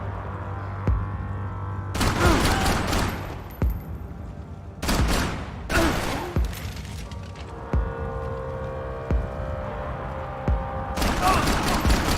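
Gunfire in the video game Max Payne 3: several loud bursts of rapid automatic fire broken by short pauses, with scattered single shots and a low background hum between the volleys.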